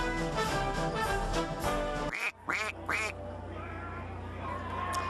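A duck gives a few short, loud quacks in quick succession, preceded by dense music and followed by a steady low hum.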